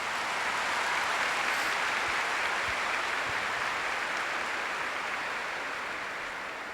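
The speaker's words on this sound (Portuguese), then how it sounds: "Aplauda essa palavra maravilhosa." Dense, steady applause from a church congregation during a Catholic service, filling the whole stretch as a continuous wash of clapping that fades slightly at the end.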